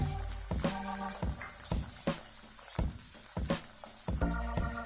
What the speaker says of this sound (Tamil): அதுவும் நல்லா ரேஸாக அப்படியே வறுத்துக்கிறோம்